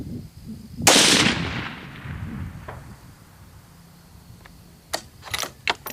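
A single sharp shot from a Remington 700 SPS .308 rifle fired outdoors at a distant target near a tree line, loud and close, followed by a fading echo and a few faint clicks afterward.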